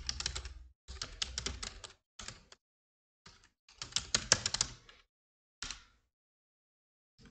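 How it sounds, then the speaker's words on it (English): Typing a user login on a computer keyboard: several bursts of close, quick keystrokes separated by short pauses, ending with a single isolated key press. "And I type my user login."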